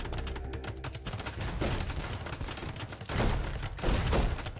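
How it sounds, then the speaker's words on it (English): Bombard towers fire in an Age of Empires match, a rapid series of booming cannon shots and thuds that come in overlapping volleys, growing heavier and louder toward the end. "Holy shit, the bombard towers absolutely decimate the Arbalester count."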